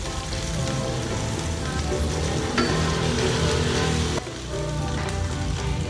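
Toasted garlic sizzles steadily in hot oil in a frying pan, a dense, crackling hiss that stays close and continuous with no talking.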